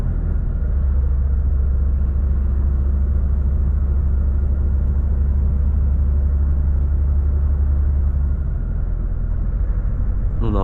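A Volvo FH 540 truck cruising in 11th gear at about 1000 rpm, a deep, steady engine rumble that fills the cab without a break, easing slightly near the end.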